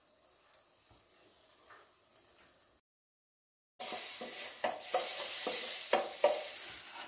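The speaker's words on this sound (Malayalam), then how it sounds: "ബട്ടർ നന്നായിട്ട് ഉരുകിയിട്ടുണ്ട്." Butter melting in a hot pan for shahi butter paneer masala: a quiet sizzle with light stirring, a brief silent gap, then a louder, steady frying hiss with scraping strokes.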